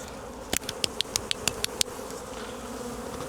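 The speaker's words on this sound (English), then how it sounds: "I'm going to knock these bees off just to make things a bit easier" Honey bees on a hive frame during a swarm-prevention inspection hum steadily, with a quick run of about eight sharp knocks or taps close by as the bees are shaken off, then buzzing continues alone.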